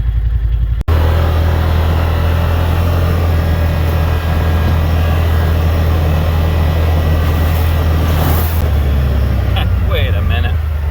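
A Wolverine X2 side-by-side rides along with a steady, fairly quiet engine hum and rushing road noise, held at a constant pace throughout with no sharp revving.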